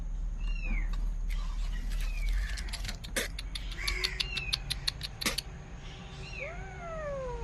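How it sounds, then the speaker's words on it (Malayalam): Two motherless kittens give several thin, high mews, some near and some a little farther off, over a steady low hum and scattered clicks and chirps, with no one talking. "പൂച്ചക്കുട്ടി"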